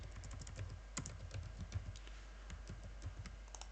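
Keys clatter on a computer keyboard in an irregular run of close, light taps with brief pauses, over a low steady hum and no speech.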